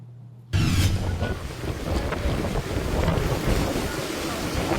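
Strong super typhoon wind in the Bicol region roars steadily into the microphone, a dense rushing noise that starts abruptly and continues without a break.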